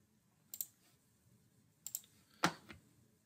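Sharp clicks of a computer mouse while working in CorelDRAW, three small groups of close, crisp double clicks separated by quiet pauses.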